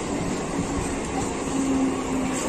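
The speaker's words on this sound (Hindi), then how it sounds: "तो गाइस चलो अभी ट्रेन में बैठे निकलते यहाँ से भाईंदर के लिए," A moving commuter train bound for Bhayandar rumbles steadily in a loud, continuous rush of wheel and carriage noise, heard from on board.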